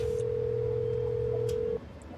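A cell phone call placed inside the house in the Nancy Drew game Secrets Can Kill, heard as a steady two-tone ringback or dial tone lasting under two seconds, then a quieter background.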